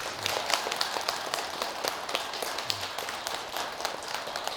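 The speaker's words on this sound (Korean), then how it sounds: "주지 상훈 스님께 큰 박수 한번 부탁드립니다" Applause for the head monk at a Buddhist temple dharma assembly in Seoul, a steady mass of hand claps from the congregation filling the room at moderate level.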